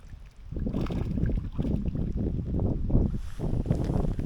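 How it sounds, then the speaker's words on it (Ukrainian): Blustery wind roars against the microphone with a continuous wash of rain, rumbling and gusting throughout, outdoors while fishing. "Дощ з вітром."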